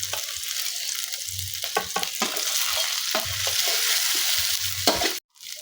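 Mutton frying among fried garlic, onion, ginger, dry chilli and cumin pastes makes a loud, continuous sizzle, broken by repeated scraping stirs of a spoon in the pan. The sound stops abruptly just before the end.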